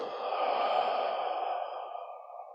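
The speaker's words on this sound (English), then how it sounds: "Inhale and exhale" A slow, steady breath during a Taoist meditation class, one long smooth airy exhale that is close and clear with no talk over it.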